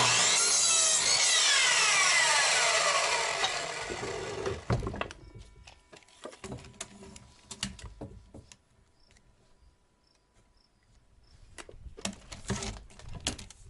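Hand saw cutting through a wooden board for a growing trough: steady rasping strokes for about five seconds, loud and close, then scattered knocks, scrapes and handling of wood and tools.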